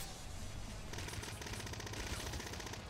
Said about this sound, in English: Good old blood rifle, though.